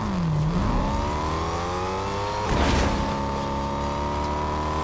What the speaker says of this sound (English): You guys hear the car? I'm in the car right now.